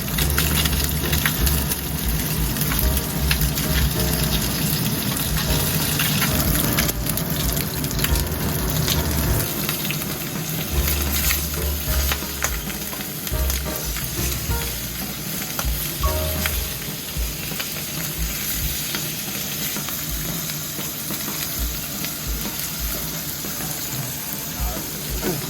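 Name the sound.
chicken thighs frying skin-side down in oil, Spanish garlic chicken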